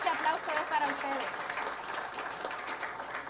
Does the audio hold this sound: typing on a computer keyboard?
no